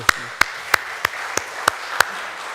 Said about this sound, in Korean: 우리 격려 박수 한 번 더 하겠습니다